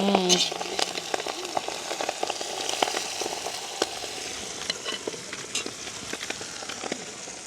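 Steady, dense crackling sizzle of gram-flour-coated fish frying in hot oil, with sharp pops scattered throughout, close and continuous.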